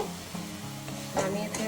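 Patishapta filling cooks in a pan with a steady sizzle and a few stirring scrapes, close and moderately loud over a low background hum.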